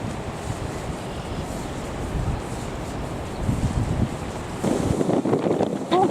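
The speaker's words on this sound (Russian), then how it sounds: "Какой сильный ветрюган!" Strong wind buffeting the microphone on a seashore, a steady roaring rush with gusts and breaking waves beneath, growing louder and more turbulent toward the end.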